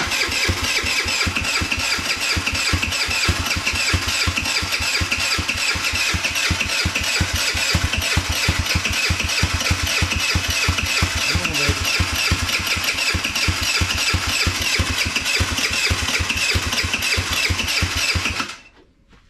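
A custom motorcycle engine with a carburetor cranks on the starter in a fast, even chug, loud and close for nearly twenty seconds without firing, then stops abruptly; no one speaks.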